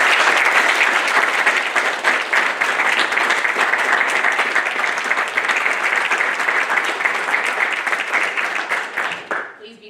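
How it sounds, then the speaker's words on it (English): Family and friends applaud the newest Navy 3rd Class Petty Officers at a Nuclear Field A School graduation, a loud sustained roar of many hands clapping in a hall, fading near the end. "Family and friends, please join me in a round of applause"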